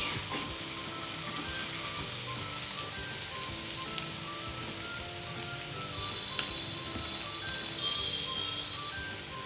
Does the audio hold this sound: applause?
no